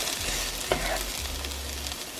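Onions sizzle and brown in a frying pan: a steady, close hiss of frying with a brief scrape of stirring, and no talking.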